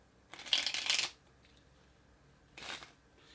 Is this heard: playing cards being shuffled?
yes